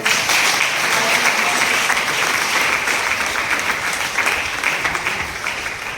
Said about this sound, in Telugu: వాళ్ళందరికీ మనం ఒకసారి మళ్ళీ చప్పట్లతో